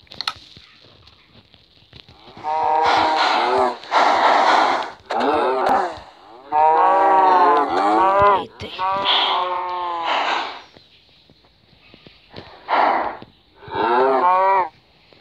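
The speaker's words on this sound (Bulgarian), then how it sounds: "Например, тук ще сложа само крави." Cows in Minecraft moo repeatedly, a series of loud, drawn-out lowing calls in several bursts with short quiet gaps between them.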